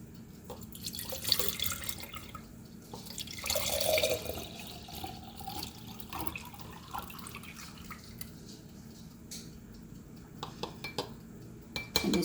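Elderberry syrup pours through an ordinary funnel into a container with a liquid trickling and splashing, followed by dripping and small clinks of kitchenware, close and moderately quiet.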